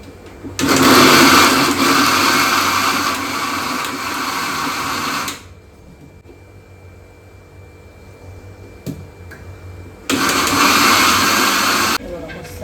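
An electric kitchen mixer grinds chutney in two loud, steady whirring bursts, one lasting about five seconds and a shorter one near the end, with a quiet pause and small clicks between them.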